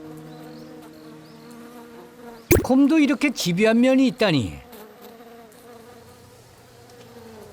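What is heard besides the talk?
bees buzzing around an Asiatic black bear at a hive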